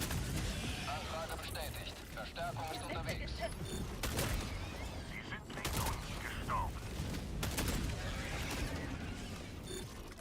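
EPOCH weapon in the video game Battlefield 6, sharp gunfire bursts and mechanical clacks amid busy in-game battle noise, with a voice talking over the action.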